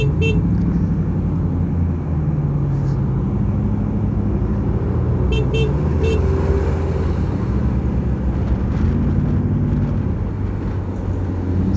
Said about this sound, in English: So as we make our way through this heavy traffic